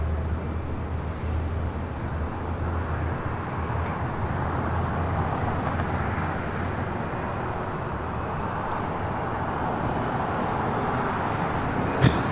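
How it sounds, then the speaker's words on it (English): A KLM Boeing 787-10 Dreamliner arrives at LAX as a steady, fairly distant broadband jet roar that stays even and low in level, with a faint click near the end. "KLM Flight 601. It's the next heavy arrival on the north side."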